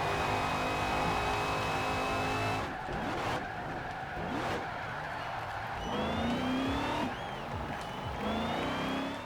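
A Shelby Cobra Daytona race car in a racing video game, its engine droning loud and steady, then revving through corners with sharp tire squeals and skids over a continuous roar.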